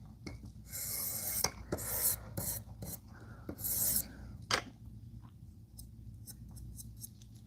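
A knife blade sharpened freehand on a whetstone without a jig: loud, rasping strokes in bursts over the first four and a half seconds, then fainter, lighter scraping near the end.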